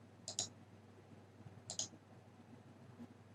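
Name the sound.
mouse clicks saving settings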